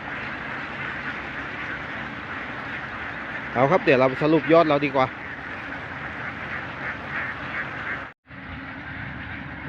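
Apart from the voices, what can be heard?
flock of ducks quacking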